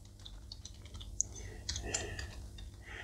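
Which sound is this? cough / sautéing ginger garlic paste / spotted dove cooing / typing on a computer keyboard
typing on a computer keyboard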